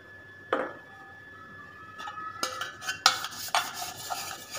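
Oil being spread around a metal cake tin with a utensil, a series of light clinks and scrapes that grow busier toward the end, close and clear with no talking.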